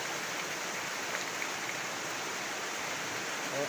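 A smelly river polluted with starch-mill waste flows steadily, its broad continuous rushing close and even throughout with no voices.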